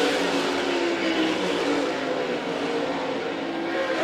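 All Stars and NCRA race cars roar around a dirt track at Wakeeney, Kansas, a loud, sustained engine drone that swells as cars pass without letting up.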